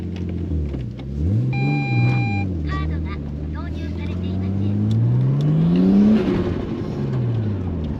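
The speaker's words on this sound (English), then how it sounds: "You always just rip right out of your own driveway." Nissan Skyline, engine-swapped, pulling hard out of a driveway, its engine note rising steadily in pitch as it revs through the acceleration, heard from inside the car with cabin noise throughout.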